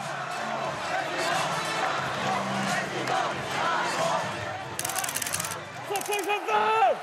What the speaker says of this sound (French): À chaque rassemblement, la foule est en surchauffe.